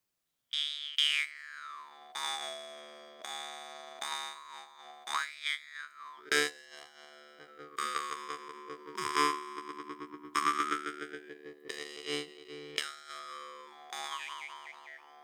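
A Ukrainian jaw harp tuned to D2 twangs in springy, resonant plucks, its overtones sliding up and down over a steady drone, played alone and close.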